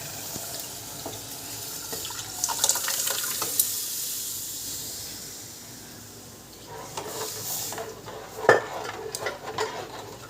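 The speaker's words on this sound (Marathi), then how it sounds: "आता आपण डाळीचं पाणी टाकूया" Lentil water splashes and pours into a sizzling pan of fried spices, followed by stirring and a sharp clink of utensils near the end.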